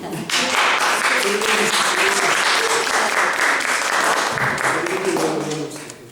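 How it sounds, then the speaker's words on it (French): An audience applauding the interpreter Valérie at a meeting in Brussels, a full, sustained roar of many hands with a few voices mixed in, tapering off at the end. "je crois qu'il faut applaudir Valérie"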